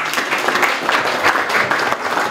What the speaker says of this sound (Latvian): Bet šobrīd ar aplausiem sveiksim mūsu viesi.